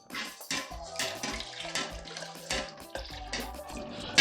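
Dragon stout is poured into carrot juice while the mixture is stirred, giving a close, splashing liquid gurgle that runs steadily with small bursts of sound throughout.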